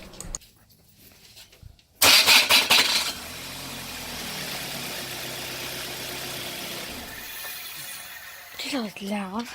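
A car engine with a bad starter cranks in a loud burst of rapid grinding clatter, then settles into a steady running drone, with people talking briefly near the end.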